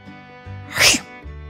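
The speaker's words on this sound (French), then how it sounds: "se mit à éternuer." A single short, sharp sneeze bursts out over a low steady hum, quick and close.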